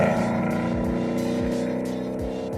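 A Ford car fitted with a Ford Performance Stage 3 Power Pack pulls away, its engine loud and close with a rising drone and repeated gear-shift dips as it accelerates, no talking.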